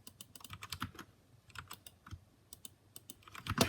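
Typing on a Royal Kludge RK61 mechanical keyboard, close and quiet, with quick irregular bursts of key clicks and brief pauses between them.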